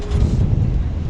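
Gusty wind buffets the microphone in a steady low roar on a squid fishing outing at night, with continuous rumbling and no clear pauses.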